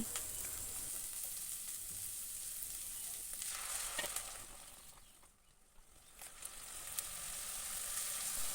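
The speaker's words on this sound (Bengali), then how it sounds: "এখন মশলাগুলো আমি একটু একটু করে পানি দিয়ে ভালোভাবে কষিয়ে নিব" Spices cooking in a pan with a little water added, for egg bhuna: a quiet, steady hissing sizzle that briefly dips before resuming, with faint stirring clicks and no talking.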